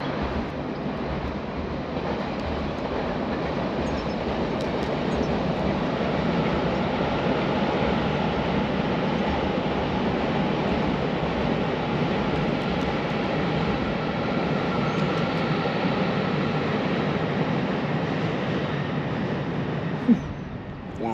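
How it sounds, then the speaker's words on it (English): Train passing at Peterborough station in flooded conditions, a long steady rumbling roar that holds throughout without fading, fairly close, with no clear talk. "Should we wait for a train for a minute?"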